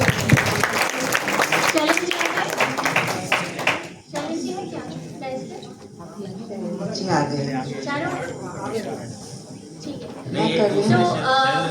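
A burst of audience clapping opens a Hindi literary panel session on disability in literature, welcoming the panelists and filling the first few seconds before a voice takes over.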